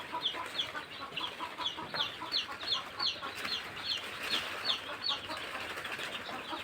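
A poultry house for layer chicks, built for 700 birds, fills with steady overlapping clucks and chirps from the flock, with occasional wing flaps, fairly close and continuous with no talking.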